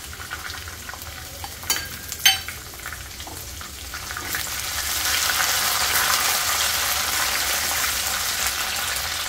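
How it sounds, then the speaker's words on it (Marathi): Peas and corn sizzle and fry with sautéed onion in a hot pan for smoky palak paneer pulao, a couple of sharp clanks of a utensil early on before a steady, louder hiss of frying builds and holds. "आता हे मटर आणि कॉर्न घालूया आपण याच्यामध्ये."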